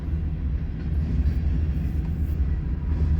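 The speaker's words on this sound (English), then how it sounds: "westbound empty coal drag is slowing down a bit." An empty westbound coal train slows as it rolls past, giving off a steady low rumble and rail noise at moderate distance with no distinct clanks.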